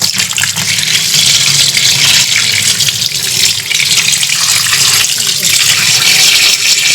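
Tap water runs steadily into a sink while items are washed underneath, a loud continuous gushing and splashing close by, with small clatters and shifts in the flow.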